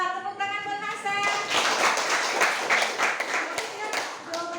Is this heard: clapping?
yes